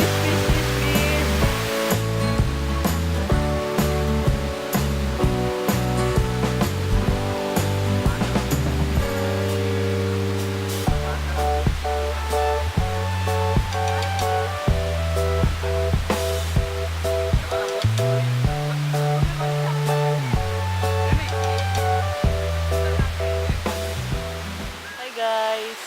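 A waterfall rushes with a constant broad roar, heard under music that plays throughout.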